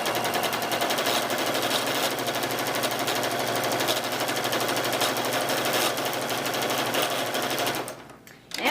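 Sewing machine stitching a quarter-inch seam in patchwork fabric, a fast steady close mechanical rattle running continuously for about eight seconds before slowing and stopping.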